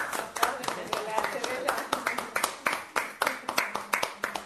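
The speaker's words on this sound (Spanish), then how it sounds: "aplaudamos" An audience at a Chagas communication panel applauding, with bright, brisk irregular claps close by that continue steadily throughout.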